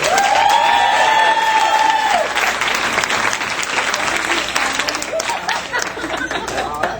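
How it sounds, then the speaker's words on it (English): Wedding guests applaud the families with sustained, loud crowd clapping and some cheering, starting over a brief tonal whistle or feedback and continuing steadily for several seconds. "let's have a round of applause for the families here"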